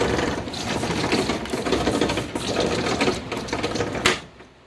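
A fish-brand car windshield wiper motor runs close by with a steady whirring, mechanical chatter for about four seconds, then cuts off abruptly and leaves near silence.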